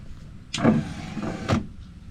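A motorized sliding entry step on a caravan extending, with a brief click at the start, a steady electric motor whir for about a second, and a sharper clack as it stops, heard up close and alone.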